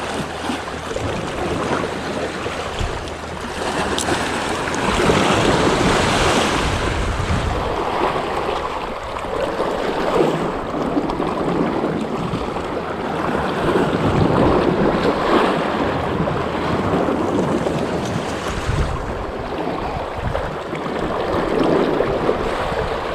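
Rough sea surf breaking along a rocky coastal point in Chumphon, Thailand, during shore fishing for grouper, with continuous loud wash and roar of waves and gusting wind buffeting the microphone, no voices.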